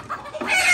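A small hen clucks close by in short, busy bursts that swell louder toward the end, with no talking over it.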